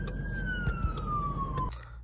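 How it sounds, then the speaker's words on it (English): An ambulance siren wails in a long falling tone from a nearby road, heard briefly from inside a car with traffic rumble underneath. "We got this fucking ambulance here, bro."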